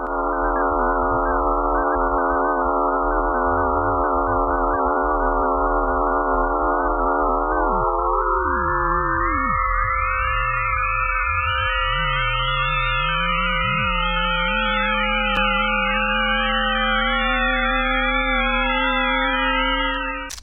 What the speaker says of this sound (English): These scary sounds, captured by orbiting satellites, prove how unsettling Mother Earth can sound.